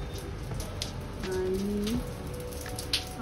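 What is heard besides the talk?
rain falling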